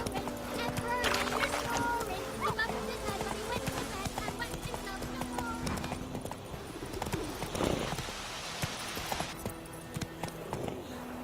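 A horse gallops in The Witcher 3: Wild Hunt, with rapid rhythmic hoof clip-clops over the game's ambient sound and a brief voice.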